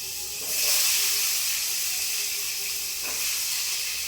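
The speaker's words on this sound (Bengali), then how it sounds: "আলুটা ভেজে নেবো" Thick-cut potato pieces frying in hot oil in a pan, a steady bright sizzle that swells after the first half second and stays loud and continuous, with a soft stirring knock near the end.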